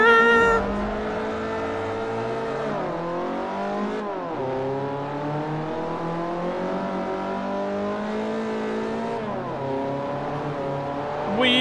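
Kia race car in Forza Motorsport 4 roaring through gears: a loud, steady engine drone with rising pitch sweeps and sharp drops at each upshift, held close and continuous for about twelve seconds.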